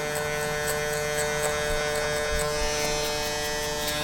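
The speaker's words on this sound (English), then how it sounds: "For a lot of beginning barbers, clippers with notches will help you out." Electric hair clippers buzz steadily and close during a fade mohawk haircut, a continuous even drone with a faint hum beneath and no speech.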